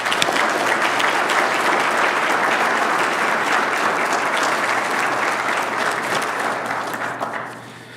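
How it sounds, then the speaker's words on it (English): A room full of people gives sustained, dense applause at a Scout troop's Eagle Court of Honor, loud and steady for several seconds before thinning out at the end. "Let's give them a round of applause, please"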